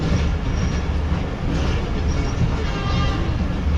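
A Green Line train rumbles past close by in Karachi, a continuous loud roar of wheels on rail with faint clatter and squeal, steady throughout.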